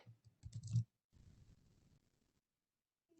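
Soft keystrokes on a computer keyboard while entering a note, a quick cluster of clicks followed by a longer, fainter run of light tapping, then quiet.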